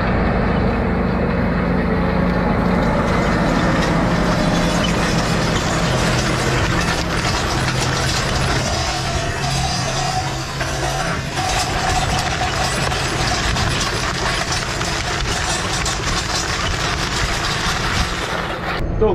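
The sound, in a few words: tractor engine running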